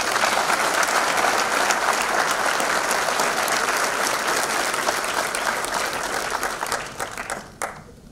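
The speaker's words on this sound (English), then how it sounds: "she deserves a big round of applause" Sustained audience applause fills a formal gathering in India, dense and steady for several seconds before thinning out to a few scattered claps at the end.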